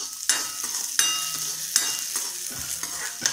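Chana dal and urad dal dry-roasting in a pan for ginger thogayal, with a spatula scraping and stirring in repeated strokes over a soft, steady frying hiss, close and with no voices.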